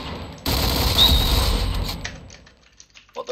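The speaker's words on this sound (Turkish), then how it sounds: "Adam görmedim, duvardan vurdu." A burst of rapid gunfire in a first-person shooter, loud and continuous for about a second and a half before cutting off, followed by a few scattered mechanical clicks and faint thuds.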